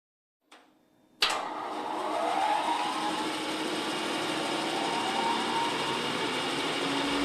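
A Centauro bandsaw starts up with a sharp click and thump, then settles into a steady, even whirring drone that keeps running at moderate volume in a quiet workshop.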